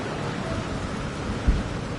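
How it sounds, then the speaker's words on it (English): Steady rain hisses through a thunderstorm in the video game Jurassic World Evolution 2, with a single low thunder thump rising briefly out of the downpour near the end. No voices. "We got our first storm coming in"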